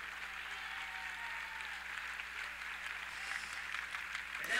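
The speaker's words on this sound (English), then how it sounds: "a round of applause for your women's basketball players, parents, and escorts" Applause for women's basketball players, their parents and escorts during a Senior Day ceremony at Carson-Newman fills a gym as a steady, fairly faint wash of clapping that swells slightly near the end.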